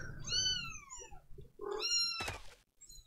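A cat meows loudly and close, two drawn-out rising-then-falling cries, with a short rustling thump between them and a brief scuffle after.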